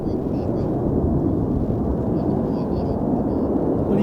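A seven-jet Frecce Tricolori formation lands together at the Royal International Air Tattoo, a loud, steady roar of jet engines filling the air, with a commentator's voice faintly audible above it.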